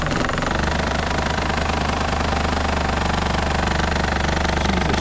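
A Nissan Rogue idles in gear against the brake, its worn transmission mount letting the engine shake; a steady, loud, rattling drone with a rapid pulsing vibration, continuous and close, no talk.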